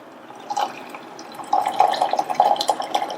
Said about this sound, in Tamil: இந்த வெந்த ஜவ்வரிசியோட நம்ம வத்த காய்ச்சின 1 கப் பாலை சேர்க்கிறேன்